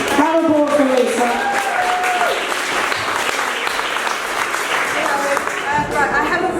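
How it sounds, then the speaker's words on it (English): An audience at a talk event applauds as Lisa comes up, sustained clapping running under a speaking voice and crowd chatter. "Round of applause for Lisa."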